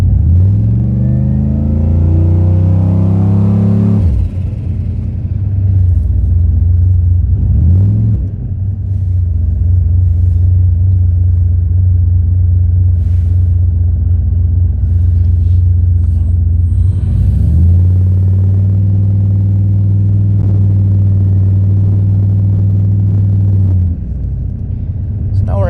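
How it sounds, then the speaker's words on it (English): Steady low droning hum of a vehicle interior while driving, loud and continuous throughout, with the tone shifting as the engine changes speed. "You don't hear as much droning from the vehicle?"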